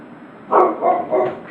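Three loud barks from a nearby dog in quick succession, each short and sharp, rising out of a quiet background.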